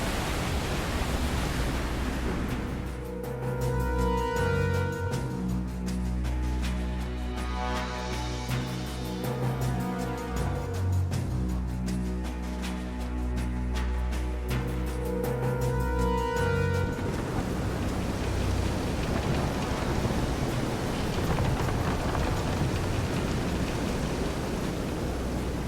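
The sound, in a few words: storm with waves at sea, from Visions of Mana video game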